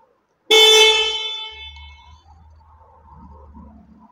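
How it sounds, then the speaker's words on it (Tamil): A single loud, bright horn blast from a Bgauss C12i Max electric scooter sounds abruptly and holds for about a second, then fades into a faint low hum. "இது வந்து ஹாரன்."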